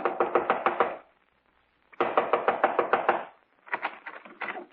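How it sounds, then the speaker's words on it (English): A fist raps on a front door in three quick volleys of hard, close knocks, with a pause of silence between the first two and a shorter, lighter final round. "I was knocking on his front door"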